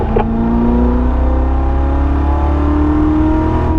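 A car engine pulls hard on a track, holding a loud, steady drone as it winds up toward top speed through fifth gear, with no voices.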